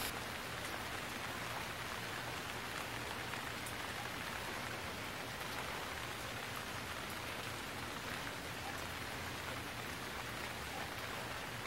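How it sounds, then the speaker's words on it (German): Steady rain falls and patters on surfaces outdoors during a rainy day on a South Seas trip, a dense, even hiss that stays constant throughout, moderately faint, with no voices. "Könnt ihr euch den Regen angucken"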